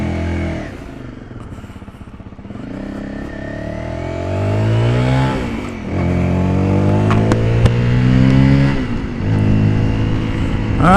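Motorcycle engine heard from inside a rider's helmet-mounted action camera during a ride, a steady close drone that rises and falls with repeated revving and gear changes, with wind rush throughout.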